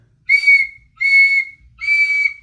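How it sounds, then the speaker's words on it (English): A shrill whistle blown three times, each blast about half a second long with brief gaps, loud and close with no other sound. "and blew 3 times upon her silver whistle."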